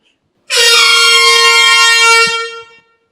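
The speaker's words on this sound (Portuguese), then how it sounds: "Toda vez que você lembrar de uma buzina de um caminhão" A truck air horn blasts once, loud and close, holding a steady, brassy chord for about two seconds before it cuts off and fades, with no other sound around it.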